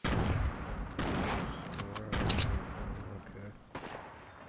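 Rapid gunfire bursts in a Fortnite match, loud sustained volleys of crackling shots with brief pauses between them, with voices talking over the shooting.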